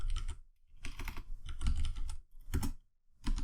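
Rapid clattering keystrokes on a computer keyboard while code is typed, coming in several quick clusters separated by brief pauses, close and clear with no talking.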